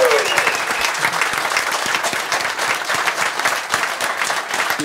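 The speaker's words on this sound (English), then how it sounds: "Round of applause for Jordan Young." A live podcast audience in Glasgow claps and cheers steadily for nearly five seconds, with dense, loud applause filling the room.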